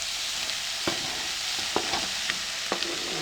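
Tomatoes, garlic and carrots fry with liver in a pan, giving a steady close sizzle broken by a few sharp clicks and scrapes as the mix is stirred.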